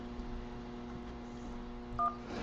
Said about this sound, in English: To remain on this call, press 1.